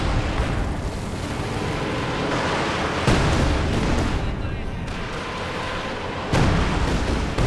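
Heavy artillery barrage in the video game Company of Heroes 2: a continuous roar of booming impacts with a couple of sharper new blasts, under a commentator's steady voice.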